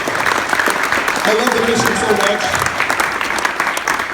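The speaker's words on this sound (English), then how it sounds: "let's give the Riveter a round of applause" A Seattle audience at the Capitol Hill Riveter claps steadily for the whole stretch, a dense, even patter with a voice speaking briefly over it.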